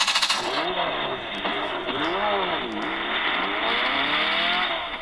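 A RedMagic 9 Pro phone plays a car-style startup sound effect: a synthetic engine rises and dips in repeated revving sweeps, loud and close, with no voice over it.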